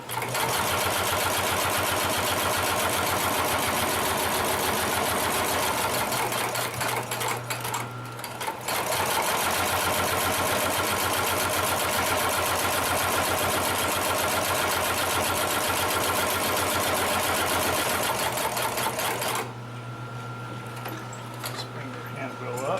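Consew 733R-5 heavy duty sewing machine stitching through layers of thick saddle leather, a loud steady mechanical whir that stops briefly twice and then resumes, with a person talking over it.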